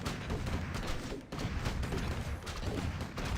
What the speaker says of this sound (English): here comes the mortar push